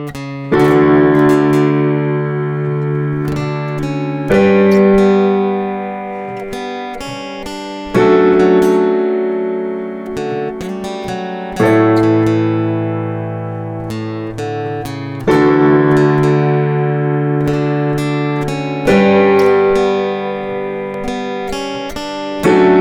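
Keyboard chords from a verse of Fairytale of New York played in a steady, sustained pattern, changing every few seconds, with a bright organ-like tone and no voices.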